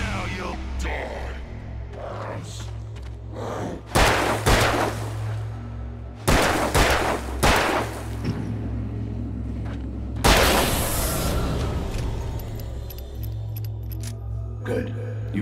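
Gunshots in the video game Alan Wake, three or four loud booming blasts spaced a few seconds apart over a low droning game soundtrack.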